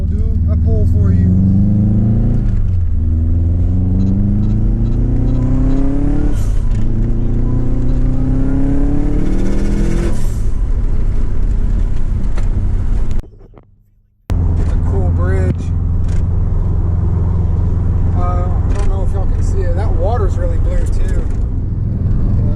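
A 400hp Subaru car at full throttle in a hard pull, the engine note climbing through several gears with each shift dropping the pitch, loud and close, cutting out briefly before revving resumes.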